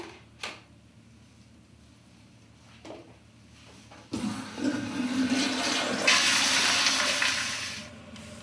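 A toilet in a patient care setting flushes after urine is emptied into it. A few faint clicks and handling sounds come first, then a loud rushing, gurgling flush that swells and continues to the end.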